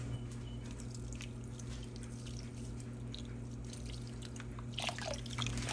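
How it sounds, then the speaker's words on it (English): Quiet trickling and dripping of water being poured into a slow cooker for a pot roast, with a few brief splashes near the end. "I'm gonna put some water in here just one time"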